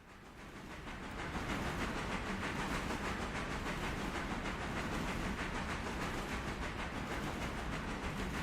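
A freight train in the Railroader video game rolls steadily into the old interchange yard at Whittier, with a constant loud rumble, hiss and faint rhythmic wheel clatter building in the first second and holding throughout.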